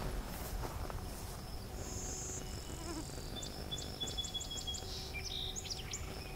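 A blue-winged warbler sings a short run of thin, high buzzy notes at moderate distance over a faint outdoor background, with other birds chirping and faint insect sounds around it.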